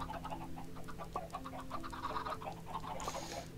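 Chickens cluck in the video game Minecraft, several short blocky clucks repeating over steady background game music, fairly quiet and with no talking.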